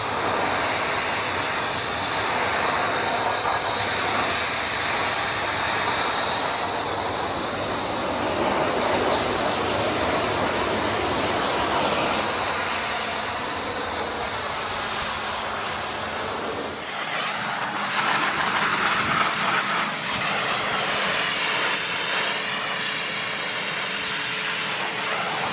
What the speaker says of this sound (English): This gun will strip all the lacquer off that for me.